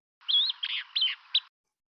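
Recorded call notes of a flycatcher, likely a Least Flycatcher: a short, high, clear sequence of about four chirping notes over roughly a second, close and isolated with silence around them.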